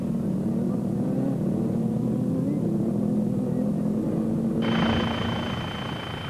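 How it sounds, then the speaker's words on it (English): KTM enduro motorcycles race across rough terrain at the 1996 Roof of Africa event, a steady droning engine note that shifts pitch as they ride, with a narrator speaking over it. "Curtis was holding on to a comfortable lead as he eased his AGA Panasonic KTM across the terrain"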